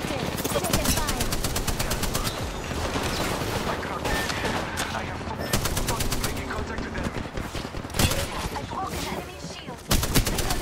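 Rapid automatic gunfire in Apex Legends crackles in dense bursts and fusillades, layered with battle noise and a voice talking over it, louder spikes near the end.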